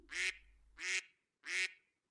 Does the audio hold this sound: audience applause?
no